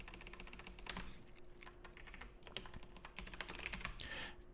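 Rapid, continuous clatter of keys on a computer keyboard, fast uneven taps carrying on throughout at a close but quiet level, with no talking.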